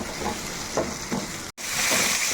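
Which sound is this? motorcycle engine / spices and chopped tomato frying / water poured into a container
spices and chopped tomato frying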